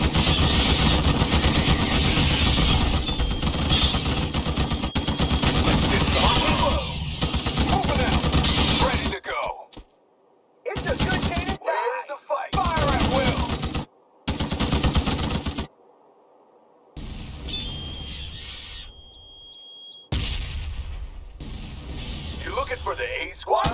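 Heavy, continuous gunfire from troops in the strategy game Starship Troopers: Terran Command, one unbroken barrage that then breaks into separate bursts with short silences between them, alongside shouted voices.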